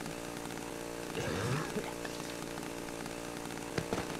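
A chainsaw in the horror video game Cry of Fear revs in a rough buzzing burst over a dense, noisy game soundscape, with a few sharp knocks near the end.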